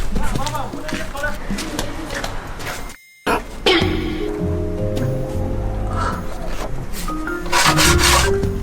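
Sandpaper rubs in steady back-and-forth rasping strokes, loud and close, with a brief cut in the middle and a person talking over it.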